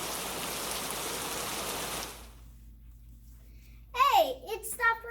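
Rain falls as a steady broadband hiss for about two seconds and then abruptly stops, leaving quiet before a voice speaks.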